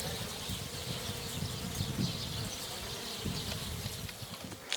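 Carniolan honey bees buzz at a hive in a dense, continuous drone of many wings, steady and fairly close, with faint insect and bird sounds behind and no voices.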